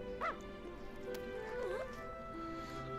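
Dog in Dragon Quest Builders 2 giving short yips, a whimper and rising whines over a steady game music bed, with a few barks spread across the stretch.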